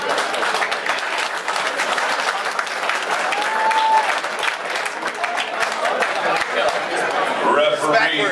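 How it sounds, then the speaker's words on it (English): A crowd at a Big Johns and Berzerker MMA event applauds both fighters in the cage, with sustained, dense clapping and cheering from start to finish and voices carrying over it. "Ladies and gentlemen, clap your hands for both of the fighters in this cage."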